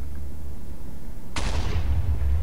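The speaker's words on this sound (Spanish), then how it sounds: "es una explosión muy controlada. Es una bomba direccional" A directional bomb from a Minecraft explosives mod goes off once with a sudden loud blast and a deep rumbling tail that lingers, set against a low steady background hum.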